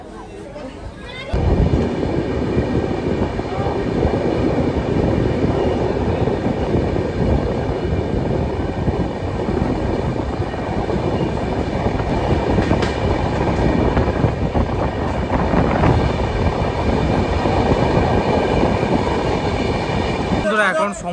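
Inside the crowded 12822 Dhauli Express running from Puri toward Kolkata, near Jaleswar, a continuous loud carriage rumble and wheel clatter rolls on steadily, close and unbroken, with a faint sharper squeal partway through.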